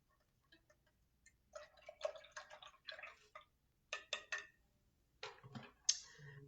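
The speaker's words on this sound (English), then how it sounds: "So we have 2 tablespoons of baking soda. And we're just going to stir that until it dissolves." Two tablespoons of baking soda are stirred into water, producing a few quiet bursts of clinking and swishing from the utensil against the container, separated by short pauses in an otherwise silent room.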